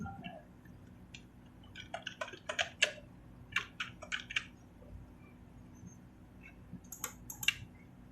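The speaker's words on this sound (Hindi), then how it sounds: "जैसे हम यहाँ पे कुछ सबसे पहले टाइप कर देते हैं" Keys tapped on a computer keyboard while typing Hindi text in PageMaker 7.0, coming in short irregular bursts of crisp clicks over a low steady hum, fairly faint and close, with no talking.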